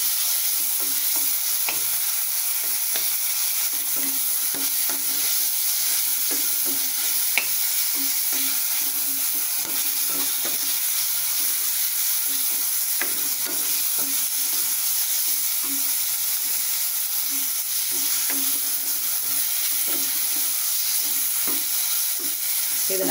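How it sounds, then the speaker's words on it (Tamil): Onions and ginger garlic paste sauté in a pan for Tamil kondaikadalai kulambu, a loud steady sizzle with frequent scraping stirs close by and no talking. "அதையும் போட்டு நல்லா வதக்கிக்கலாம்."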